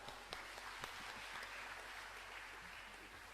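A church congregation at a prayer retreat applauds steadily to welcome a pastor. The clapping is faint, continuous and dense, heard from a distance, with a few sharper individual claps standing out.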